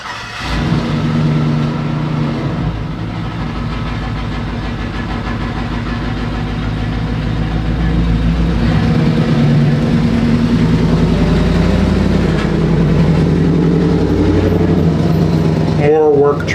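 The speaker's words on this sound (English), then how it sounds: "Work trucks passing by." Work trucks passing by outside, a continuous low engine rumble that swells and fades across the whole stretch, moderately loud and steady, with a brief sharper rattle near the end.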